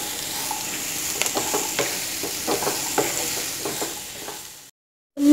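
Finely chopped carrots frying and being stirred in a pan, a soft steady sizzle broken by scraping stirs, close up, before a sudden brief silence and a louder knock at the end.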